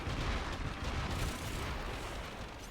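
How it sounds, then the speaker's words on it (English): A continuous roar of overlapping blasts from the Kuva Zarr area-of-effect launcher in Warframe, loud rumbling explosions blending into a steady wall of sound with no pauses. "blowing up entire rooms with an AoE weapon"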